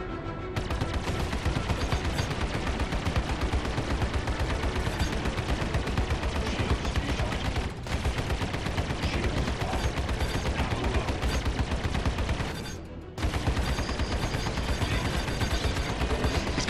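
Continuous rapid spaceship weapon fire in the Star Citizen video game, loud dense rattling bursts filling nearly the whole stretch with two short gaps, no talk over it.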